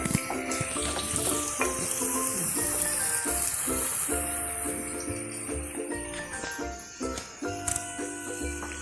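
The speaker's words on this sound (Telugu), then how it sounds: "ఉల్లిపాయ, పచ్చిమిరపకాయ, కరివేపాకు రెడ్ కలర్ వచ్చేలాగా వేయించుకోవాలి." Onion, green chilli and curry leaves frying in oil for a chicken curry, a dense continuous sizzle close by with clinks and stirring knocks from a utensil against the pan, no talking.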